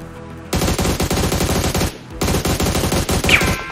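Rapid machine gun fire from a first-person shooter video game, loud and close, in two long sustained bursts separated by a brief pause near the middle, with no talking.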